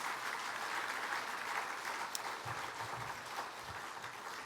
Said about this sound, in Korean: 우리 이분들에게도 감사의 박수 한번 해주시고요